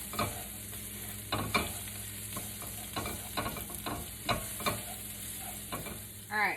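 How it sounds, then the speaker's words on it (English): Shallots and chopped rosemary fry in a pan with a soft, even sizzle, broken by a series of light spatula scrapes and taps at irregular intervals, close and quiet with no voices. "Cook while stirring until softened for 1 to 2 minutes. Put the shallots in. And the rosemary."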